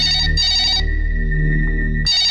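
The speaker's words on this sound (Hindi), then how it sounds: "अरे टेलीफोन होएगा।" A telephone rings in short electronic bursts, loud and close, with a pause in the middle of the ring pattern and a steady low hum underneath, no voices.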